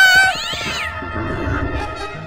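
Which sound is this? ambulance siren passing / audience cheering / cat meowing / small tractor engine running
cat meowing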